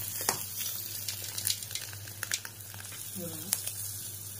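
Eggs fry in a pan with a quiet sizzle broken by sharp crackles and pops, heard close over a low steady hum.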